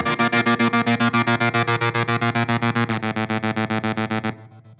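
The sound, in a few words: electric guitar through effects pedals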